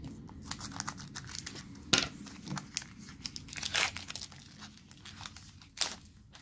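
Crinkly foil wrapper of a Pokémon card booster pack being torn open and handled, producing repeated close crackling, rustling and tearing bursts with several sharper rips, no voices.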